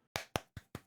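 Four sharp hand claps in quick, even succession, close and crisp, with no voices.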